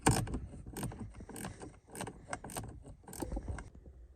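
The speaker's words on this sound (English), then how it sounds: "this is a little baby Snap-on 1/4 inch ratchet" A small Snap-on 1/4-inch ratchet, part TKN72, turns a bolt on a shifter stalk of a fifth-generation Ram 2500, giving rapid bursts of close metallic clicking in an uneven rhythm, with no talking.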